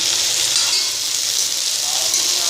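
Okra frying in a pan, a dense, steady hiss of sizzling oil that holds at an even, close level throughout with no other sound.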